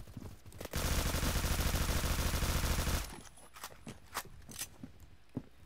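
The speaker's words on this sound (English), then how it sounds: "We made it a machine gun." A Honey Badger rifle converted to a machine gun fires one continuous, loud automatic burst of about two seconds, followed by scattered clicks and small knocks.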